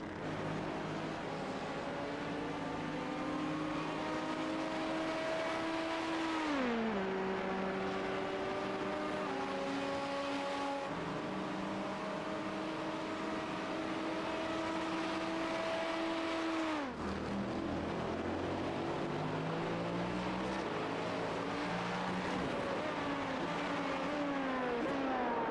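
An LMP2 prototype race car engine drones steadily around a racetrack, its pitch holding high and then dropping sharply on downshifts into chicanes before climbing again, continuous and moderately distant throughout.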